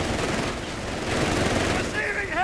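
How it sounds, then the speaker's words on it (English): Heavy gunfire in Company of Heroes 3, dense overlapping bursts of machine-gun and rifle fire crackling continuously, loud and close, with battle chatter and shouted voices mixed in. "Receiving heavy fire!"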